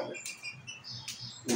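A pet bird kept by a bird breeder chirps in short, faint, separated bursts, about three quick tweets over a quiet indoor background.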